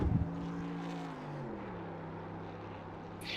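A race car engine in a sim racing game holds a loud, sustained drone during a burnout, its pitch slowly dropping, steady and close.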